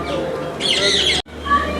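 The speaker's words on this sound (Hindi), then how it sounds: "ये देखिए हॉर्नबिल" Hornbill calling at Delhi Zoo, a short, loud, harsh squawk with a rough, raspy burst in the middle, then a brief gap and a softer follow-up note, heard close with no talk over it.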